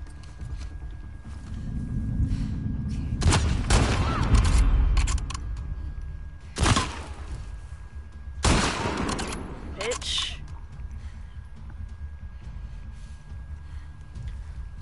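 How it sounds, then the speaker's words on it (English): Enemy gunfire in The Last of Us Part 2 cracks in a few loud separate shots after a rumbling stretch, close and punchy, with a player's voice talking around them. "They fucking just steady shooting."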